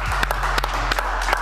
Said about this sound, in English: We'll clap to that